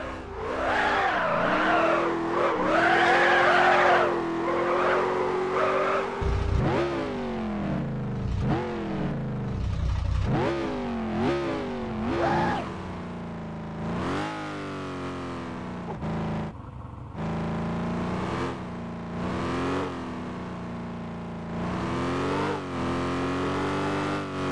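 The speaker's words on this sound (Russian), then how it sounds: "У каждого автомобиля настроен звук двигателя" Simulated engines in a racing video game rev up and down repeatedly through gear changes, with tire squeals and skids over about twenty-five seconds and no talking.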